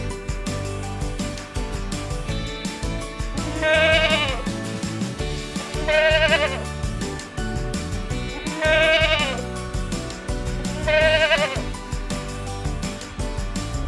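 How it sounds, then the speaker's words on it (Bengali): Repeated sheep- or goat-like bleats, four loud wavering cries spaced a couple of seconds apart, sounding over steady background music, attributed to a young goat kid. "ছয়ে ছাগল ছানা লাফিয়ে চলে"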